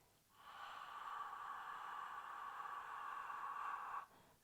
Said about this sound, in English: Exhale, mouth.